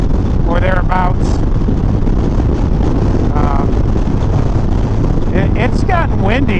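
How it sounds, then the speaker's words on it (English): Strong wind buffeting a microphone on a moving motorcycle, a loud constant low roar throughout, with brief whistling engine or road tones rising above it at moments. "It's gotten windy."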